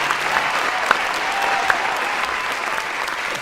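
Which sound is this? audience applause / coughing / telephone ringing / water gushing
audience applause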